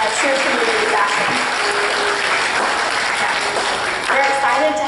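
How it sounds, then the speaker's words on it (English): A church congregation applauds and cheers to welcome new members, a steady wash of clapping with some voices mixed in throughout. "let's give them a round of applause and cheers for the new fashion."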